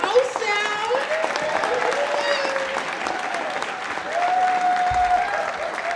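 A crowd at an African Heritage Month opening-night concert in Halifax applauds the performers, with sustained clapping and some cheering, and voices can be heard over the ovation.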